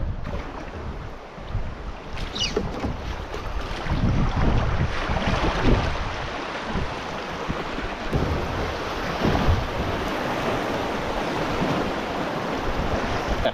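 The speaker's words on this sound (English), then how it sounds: "we're coming down into my first whitewater area, so I'll have to keep the canoe straight" Canoe running down a stretch of whitewater rapids: steady loud rushing water with splashing and wind buffeting the microphone, continuous throughout with no talk.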